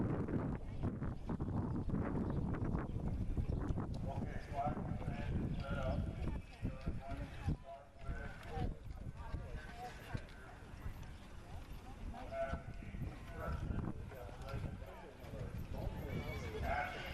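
Carriage horses clip-clop and occasionally whinny during single cart obstacle driving in a field beside the arenas at the Midwest Carriage Classic, Elkhorn, Wisconsin, with steady hoof beats under voices and gusts of wind noise.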